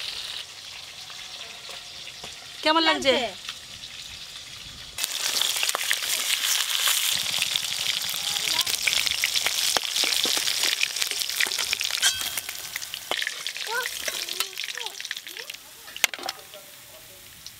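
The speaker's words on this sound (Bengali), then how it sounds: "এই মাছগুলো বেশ ভালো করে ভাজা হয়ে গেছে" Pieces of aar fish sizzle steadily in hot oil, a loud, continuous crackling frying sound after a brief quieter start, with a few spoken words near the beginning.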